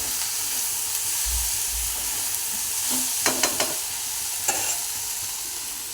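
Okra and tomato sizzle steadily in a pan over a lowered flame, with a soft continuous frying hiss and a few scraping stirs of a spoon close by.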